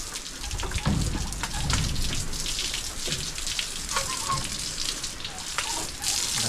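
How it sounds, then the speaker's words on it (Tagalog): A strong stream of water sprays steadily, hissing and splattering as a rooster is bathed, a continuous loud wash with irregular splashes. "Lakas yung tubig natin yan oh"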